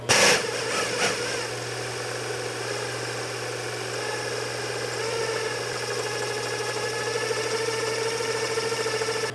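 A servo motor runs steadily at 800 RPM, giving a continuous, even mechanical hum and whine that holds at a constant level after a brief initial clatter. No one speaks.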